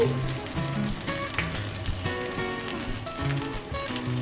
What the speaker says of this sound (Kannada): ನಾವು ಇವತ್ತು ಫಿಶ್ ಫ್ರೈ ಮಾಡ್ತಿದ್ದೀವಿ